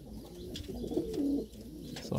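Pigeon or dove cooing at close range, soft repeated low coos over steady background noise, with no talking.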